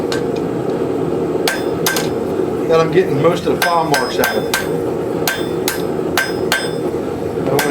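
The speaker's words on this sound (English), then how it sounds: "planishing the face a little bit with a flat die side of this hammer" A forging hammer's flat die side planishes the face of a forged woodcraft tool, giving a run of sharp ringing metallic strikes at an uneven rhythm while someone talks over them.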